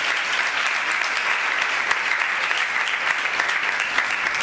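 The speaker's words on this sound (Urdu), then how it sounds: "گلا کرنے والے والے بھی تالیاں مار دیو." A church congregation claps during a pastor's sermon, a dense, sustained round of applause that keeps an even level throughout with no speech over it.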